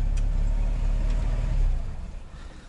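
An IZH Kombi motorcycle engine idles at about 800 rpm with a low, steady rumble that slightly fluctuates, then eases off and fades toward the end.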